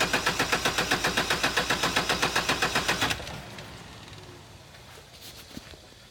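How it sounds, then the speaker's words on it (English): A four-cylinder car engine cranks over for a relative compression test, about twenty even, rhythmic starter pulses for three seconds, then stops, leaving a quiet background with a faint click. "It's going to ask me to crank the engine."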